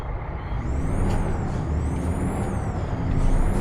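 A loud, steady air brake hiss comes from a Freightliner Argosy truck in Euro Truck Simulator 2, a broad rushing noise lasting several seconds with a faint whistling tone wavering above it.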